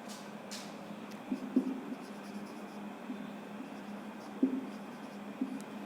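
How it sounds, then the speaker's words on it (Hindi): Scratchy, intermittent strokes of writing on a board or paper during a percentage lesson, close and faint, with brief taps and pauses over steady room hiss. "तो हम यहाँ पे लिख देते हैं"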